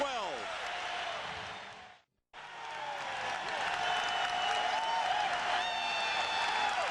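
The Forum arena crowd roars and applauds during Game 6 of the 1987 NBA Finals, Celtics at Lakers, after a diving play; a broadcast commentator talks over the loud, steady cheering, which dips briefly before surging back.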